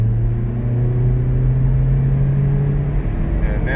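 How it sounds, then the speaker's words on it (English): A 2010 Toyota Corolla S engine with a P0304 misfire runs at full throttle, a loud, close, steady low drone and rumble that holds level throughout without talk. "I'm going to full throttle it right now."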